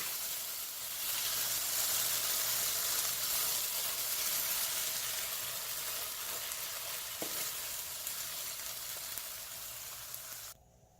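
Yam leaves sauté in a pan with a steady, close sizzle and soft hiss running nearly unbroken, a faint stirring scrape partway through, before the sound cuts off abruptly near the end.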